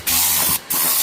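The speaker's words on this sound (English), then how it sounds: "Use the compressed air to loosen up all the nasty gunk" Compressed air blasts out loosened gunk in two loud, sustained hissing bursts with a short break between them, close up and with no talk.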